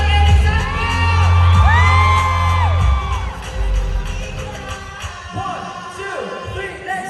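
An audience cheers, whoops and shouts for a singer, loud and sustained at first, then easing into mixed yelling and chatter with high voices calling out.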